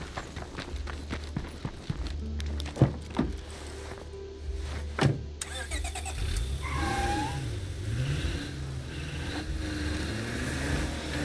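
Car engine and tyre rumble while driving in the zombie survival game State of Decay 2 on the lethal zone, with a few sharp thumps and bangs from impacts, a steady loud drone throughout.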